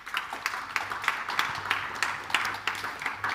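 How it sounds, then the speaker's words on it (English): A conference audience at a paper session on animation and performance claps in a quick, even patter, fairly soft and somewhat distant, lasting a few seconds with no one speaking. "another round of applause for Mona"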